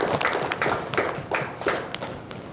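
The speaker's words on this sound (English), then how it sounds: "everyone wants to hear a big round of applause" Applause at a Jugl roadshow event at UT Dallas, with roughly sixty attendees clapping in a dense, continuous patter of hand claps that stays close and fairly even for a couple of seconds.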